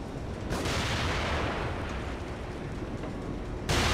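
Gunfire in the survival horror game The Evil Within, heavy booming blasts with a dense, rumbling wash that swells around half a second in and again near the end, loud and without speech.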